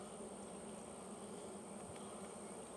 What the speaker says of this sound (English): Much smaller hive, much fewer bees.